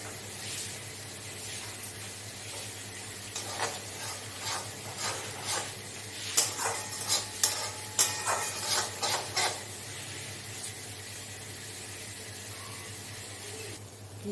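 Spice paste with salt and turmeric fries in oil for a Bengali bata fish jhal, a faint steady sizzling hiss broken by a cluster of scraping stirs in the middle.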